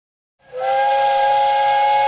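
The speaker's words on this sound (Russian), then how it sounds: "Свисток подходившего поезда прервал рассказ сибирского орла на самом интересном месте" A loud, sustained steam whistle bursts in after a brief silence and holds a steady, hissing multi-tone blast to the end.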